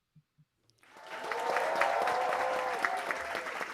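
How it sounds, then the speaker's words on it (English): Studio audience applause on a weekly cybersecurity news review show, starting with a few scattered claps and swelling into dense, sustained clapping that fills the room. "I think that's probably the most enthusiastic applause I've ever received."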